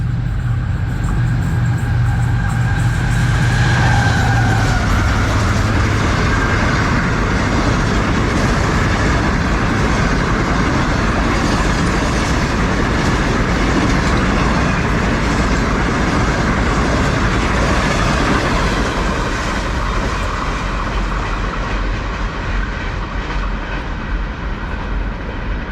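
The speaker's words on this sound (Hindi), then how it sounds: "तेज़ रफ्तार एक्शन 28 डाउन शालीमार एक्सप्रेस का।" The Shalimar Express passes at high speed, a loud, continuous rumble and rush of wheels on rails that fades slowly over nearly half a minute, with a brief horn near the start.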